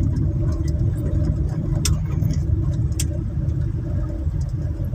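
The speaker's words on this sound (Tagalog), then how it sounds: "Yan ang lagay ng traffic dito sa may EDSA, Quezon City." Road traffic on EDSA in Quezon City, a continuous low rumble of car engines idling and moving nearby, with scattered faint clicks and ticks over the steady hum.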